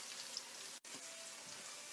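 Onions fry in a pan with a continuous soft sizzle and crackle, broken by one very brief dropout.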